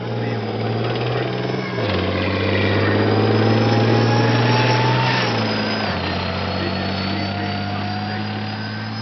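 A Warrior 510 TES armoured infantry fighting vehicle runs its engine on display at a tank show, a loud, steady heavy diesel drone with shifting pitch and clattering mechanical texture throughout.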